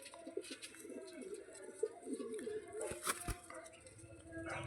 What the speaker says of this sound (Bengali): তো দেখুন পায়রাটি কী সুন্দর পায়রা।